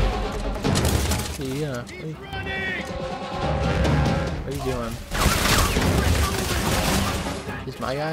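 Gunfire and crashing impacts from the Dead Space 3 demo sound loud and dense amid game effects, while excited voices talk and shout over much of it.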